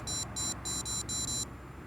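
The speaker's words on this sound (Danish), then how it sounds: "I det øjeblik karpen trækker afsted, kan jeg høre, at det bipper." Electronic carp fishing bite alarm emitting four short high-pitched beeps in an uneven rhythm, fairly close and clear over a low outdoor background hum.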